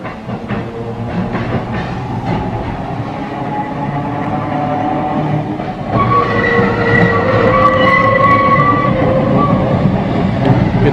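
A train rumbles past nearby, a steady mechanical roar that swells louder partway through, with squealing metallic tones over the rolling noise.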